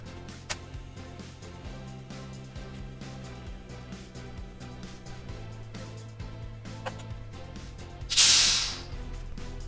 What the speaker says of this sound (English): I'm going to transfer into this one under pressure, and I'm going to use this keg.